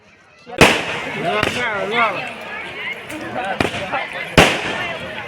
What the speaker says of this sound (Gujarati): તમે જે આ ફટાક્યા ફૂટી જોઈ રહ્યા છો